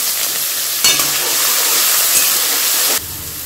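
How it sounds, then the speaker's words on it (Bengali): Carrots and beans sizzle in a hot pan for vegetable pulao, a steady broadband hiss that jumps in with a clatter as they go in, then drops away abruptly near the end. "আমি গাজরটা আর বিনসগুলো প্রথমে দিলাম"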